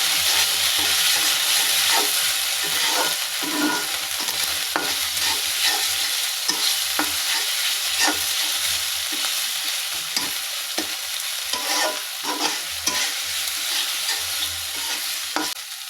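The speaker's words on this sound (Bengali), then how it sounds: "এখন মশলাটাকে ভালো করে কষিয়ে নেব" Spices and cumin paste for an egg curry fry in hot oil with a loud, constant sizzle for sixteen seconds, broken by frequent scraping and clicking strokes of stirring, close by and without speech.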